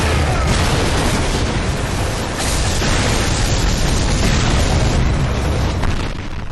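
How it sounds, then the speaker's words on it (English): A building blows up in a Bioshock Infinite level built in Unreal, with a loud, sustained explosive rumble and crumbling debris filling the whole stretch and no break, easing slightly near the end. "The building opposite you gets blown up."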